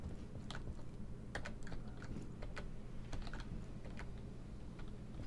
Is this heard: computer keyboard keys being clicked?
yes